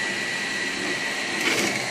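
A haze machine runs close by, giving off a steady mechanical whir and airy hiss that holds evenly for the whole stretch, swelling slightly near the end, with no voices.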